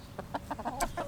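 Chickens clucking in a garden, a run of short, close clucks coming in quick irregular bursts with a faint outdoor background.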